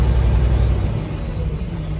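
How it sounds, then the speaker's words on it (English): A classic truck rumbles past with a deep, heavy engine drone, and a thin, high turbo whistle rides above it before slowly sliding lower in pitch. "Oh, listen to that turbo whistle."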